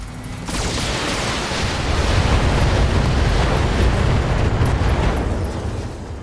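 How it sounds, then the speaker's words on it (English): An ammo explosion in the Battletech video game gives a loud, sustained roaring blast with rumbling debris that swells and slowly fades over several seconds, without talk. "Alright, ammo explosion."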